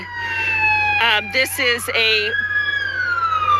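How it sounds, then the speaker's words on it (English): Sirens of several Orange County Sheriff's deputies' vehicles arriving at a protest scene in San Clemente, long sweeping wails loud and close, with someone speaking briefly over them. "I'm hearing more lights and sirens, more Orange County Sheriff's deputies showing up here at this scene"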